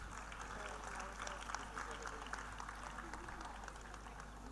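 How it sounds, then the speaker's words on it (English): Scattered clapping from an audience at an annual school prize-giving ceremony, quiet and distant, a soft continuous patter of many hands under a speaking voice. "Ladies and gentlemen, can we have a larger round of applause, please?"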